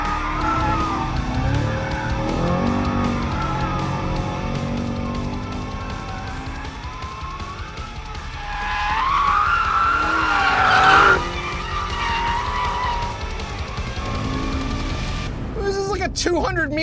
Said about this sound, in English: This is like a 200-meter drift.